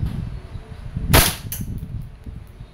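A WE I-REX airsoft gun fires a single semi-automatic shot, a sharp, loud crack that rises above steady background rumble, followed by a fainter click a moment later.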